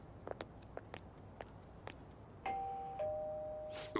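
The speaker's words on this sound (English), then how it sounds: "You ring the bell." Doorbell at Madarame's house in Persona 5: a two-tone chime rings out after a few soft footsteps approach, fairly faint and without voices.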